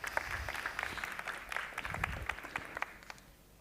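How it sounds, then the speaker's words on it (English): Applause from a seminar audience at a dairy farming event, a light scattering of claps at moderate distance that gradually thins and fades out. "Please, a round of applause for Ben."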